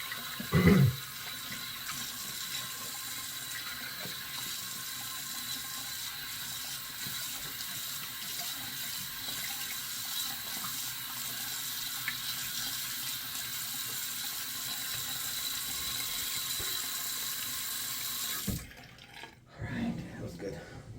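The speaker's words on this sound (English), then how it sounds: "Let me rinse." Steady tap water runs into a sink while a shaving brush is rinsed, a constant close hiss lasting most of the span before cutting off near the end.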